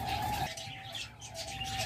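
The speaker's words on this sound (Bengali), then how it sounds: "এরপর দেখতেছেন চমৎকার এক পেয়ার পার ব্লু ফিশার জোড়া, চমৎকার পেয়ার দেখুন।" Chirps and soft calls from a pair of par-blue Fischer's lovebirds, brief and fairly faint against background noise, with no talk.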